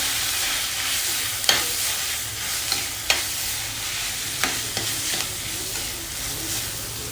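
Boiled corn and chopped capsicum stirred in a hot pan, with a steady soft sizzle broken by several sharp spoon scrapes and clicks at irregular intervals, close and moderately loud, with no talking.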